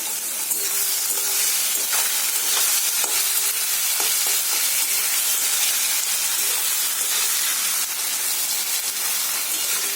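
Onions and chopped chilies fry in a pan, a loud continuous sizzle and hiss with faint spatula taps, steady throughout and free of speech.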